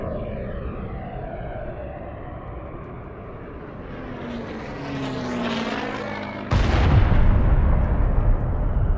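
Dozens of warplanes flying low over Buenos Aires during the 1955 bombing, a steady propeller drone with a rising pass overhead, followed by a sudden loud blast-like roar that holds to the end.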